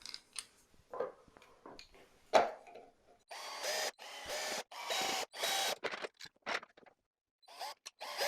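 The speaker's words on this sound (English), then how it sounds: "That just will get screwed through the hole where the old wheel went." A replacement wheel is screwed onto a clothes airer with a power drill, producing short and louder drill bursts and clicks separated by pauses and quiet handling noises.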